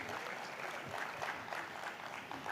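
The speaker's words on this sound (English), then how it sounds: "Can we clap for him one more time, ladies and gentlemen?" Steady, faint audience clapping at a digital transformation summit in the Middle East and Africa, even and sustained, with no speech.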